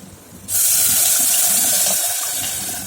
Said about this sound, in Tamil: இப்போ இதில் புளித்தண்ணி சேர்த்துடலாம்.